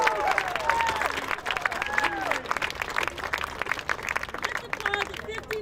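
A crowd at an outdoor Moral Monday anniversary rally against gas pollution claps and cheers, loud and steady throughout, with scattered shouts and whoops mixed into the dense applause.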